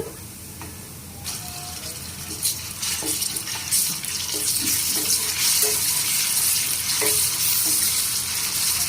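Ginger garlic paste hits hot oil in a pan for a prawn and gongura curry, a loud close sizzle swelling after a second and settling into a steady crackling hiss, with small stirring clinks.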